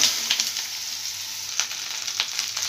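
Chopped snake gourd dropped into hot mustard oil with dried chillies and five-spice seeds, giving a soft continuous sizzle with a few sharper crackles and light stirring, no speech.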